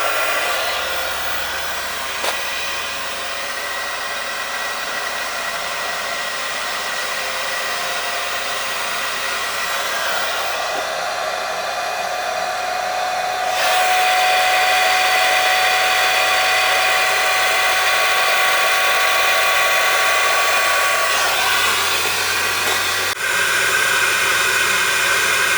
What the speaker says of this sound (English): Modulating fan.